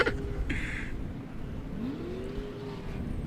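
An off-road race truck engine drones at a distance during short course qualifying at King of the Hammers, a steady roar with a rising rev sweep toward the end.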